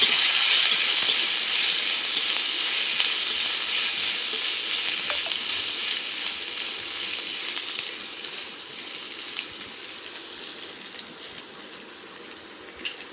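Ginger paste with mustard seeds and cumin sizzles and fries in oil in a wok, a loud continuous hiss up close that slowly softens, broken by faint scrapes of stirring and no speech.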